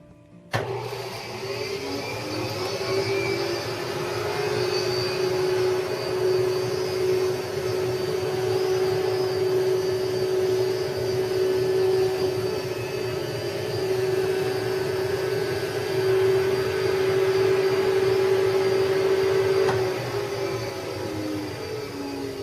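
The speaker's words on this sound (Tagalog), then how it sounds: "Now I vacuum the down out of the box and blow it into the quilt." A vacuum blower draws down feathers from a box and blows them into a quilt, a loud, steady motor whine holding for about twenty seconds before cutting off, with no talk.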